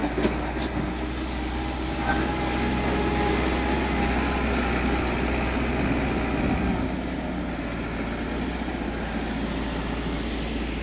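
A tractor engine labours steadily up a very steep climb, a constant low rumble with a harsh broadband roar that holds loud and even throughout.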